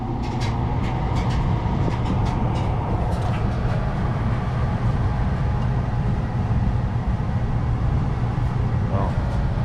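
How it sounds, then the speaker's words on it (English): A blower on a modular home heating system runs as a steady, broad rumbling whoosh, with a few faint clicks and knocks over the constant drone. "And the blower started."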